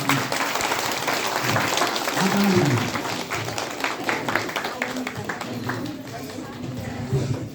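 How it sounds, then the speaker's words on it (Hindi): Audience clapping at a DXN health seminar in Banke, Nepal, a moderate, continuous patter of hands that slowly fades, with a voice speaking over it. "जोरदार ताली होना चाहिए"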